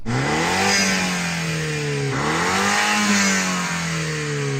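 A BMW car engine revs up steadily, dips briefly, then climbs again, loud and close, holding a strong throaty drone throughout, on a windy day.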